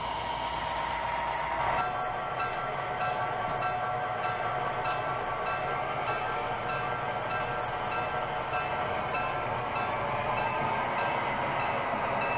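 A model Amtrak train on an HO-style model railroad layout rolling into a station: a steady, close mechanical hum and whir of the small motor and wheels, continuous throughout, with no talking.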